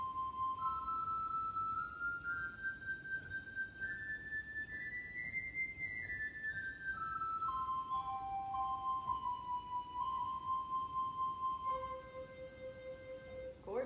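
A sustained, pure, flute-like pipe organ stop with a gentle wavering tremolo, gliding through several held pitches before settling lower, played alone.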